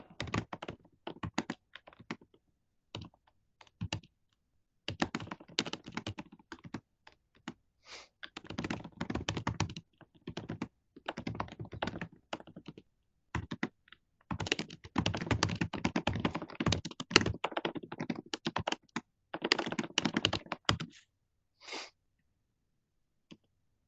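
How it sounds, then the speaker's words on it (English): Someone types an email on a computer keyboard, close and fairly quiet, with irregular bursts of rapid key clicks broken by short pauses. "I can start typing my email."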